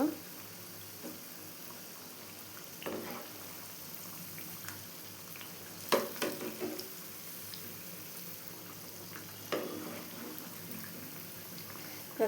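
Thambittu kajjaya fries in a pan until reddish, giving a steady soft sizzle and bubbling crackle, with someone talking over it now and then.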